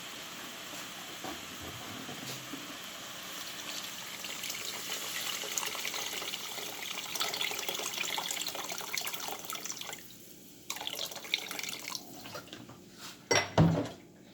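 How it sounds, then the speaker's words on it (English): Water running from a tap into a cooking pot for rice porridge, a steady hissing pour that builds, breaks off briefly, then ends with a few clanks of the pot. "Now I would add some water."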